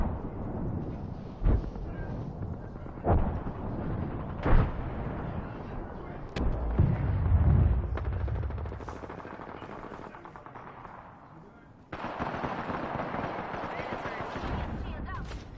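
Video game gunfire: repeated loud shots and bursts, with a heavier rumbling blast midway, all set against a continuous busy battle din and occasional voices.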